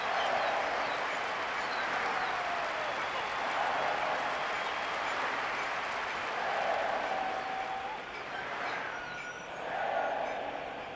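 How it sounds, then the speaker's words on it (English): Stadium crowd roar and applause from the PES 2012 football video game on PS2, a loud, steady wash of cheering that swells and dips across the whole stretch with no voices on top. "A roar of approval from the crowd, if you can call it that with so many empty seats though."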